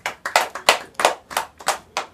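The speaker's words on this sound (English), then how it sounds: "Let's clap for Oye." Children clap their hands in a classroom, a quick series of about eight separate, close, sharp claps in a slightly uneven rhythm, with no talking.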